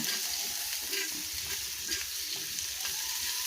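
Garlic and onion sauté together in hot oil for a tomato chutney, a steady close sizzle with soft crackles and occasional stirring scrapes.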